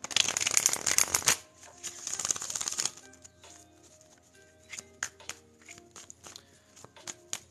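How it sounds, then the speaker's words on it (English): A tarot card deck is shuffled in a dense, rapid riffling burst for about a second, followed by softer, scattered card handling and sparse taps as the deck is cut and set down, close and alone. "We're going to cut this deck."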